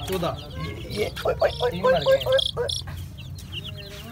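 Desi chicks and chickens cluck and peep in quick irregular bursts, fairly close, with people talking over and between the calls.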